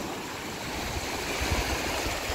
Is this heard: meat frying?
no